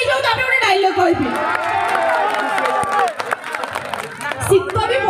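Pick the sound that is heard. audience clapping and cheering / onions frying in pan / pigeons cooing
audience clapping and cheering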